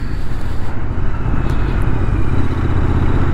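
A vintage Royal Enfield motorcycle, still being broken in, rides along roads through Provence olive groves; its engine drones loud and close with a steady, throbbing low rumble and no talk.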